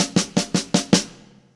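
A quick drum fill in 16th notes plays five evenly spaced sharp hits in about a second, close and loud, with the last hit ringing out and decaying.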